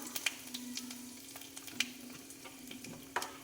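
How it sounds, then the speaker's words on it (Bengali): Hot oil sizzles with chilli, bay leaf and panch phoron tempering for a mung dal with pumpkin. The crackle is steady and close, broken by a few sharp pops and spoon clinks, with no voices. "তেলে লঙ্কা তেজপাতা দিলাম। এবার পাঁচফোড়ন দিচ্ছি, দিলাম।"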